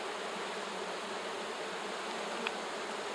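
Honey bees hum from an opened hive during an inspection, a steady, dense buzz that holds evenly throughout with no talking over it.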